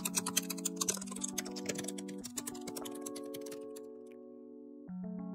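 A computer keyboard is typed on in a quick run of light keystrokes while entering an AI image prompt, with steady background tones beneath, before the clicking stops.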